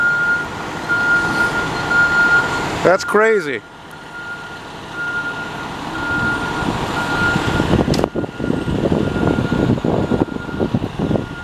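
A Montreal fire department truck backs into an industrial building lot on Rue St-Ambroise, its reversing alarm repeating steady beeps over a loud engine rumble. People talk nearby and another vehicle sweeps past partway through.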